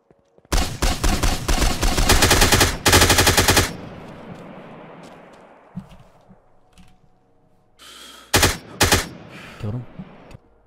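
Bursts of rapid automatic gunfire in a PvP fight in the Miscreated video game, loud and close, then a quieter stretch with faint distant pops, followed by two more short loud volleys.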